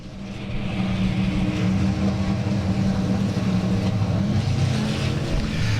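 Race cars at South Texas Speedway roar as the field accelerates away on a green-flag restart, a dense, loud, sustained engine drone that swells within the first half second and holds steady throughout.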